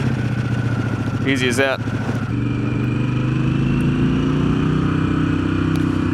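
A Harley-Davidson Pan America Special motorcycle engine cranks briefly via one-touch start, then settles into a steady, loud idle close by, with a person speaking briefly over it.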